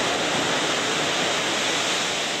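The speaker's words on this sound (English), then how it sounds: "We spent a day just dumping water in the ship, about 50 times" Water dumped from overhead tanks onto the wooden deck of a sailing ship, a heavy, steady, loud wash of splashing and pouring that fills the moment without pause or voices.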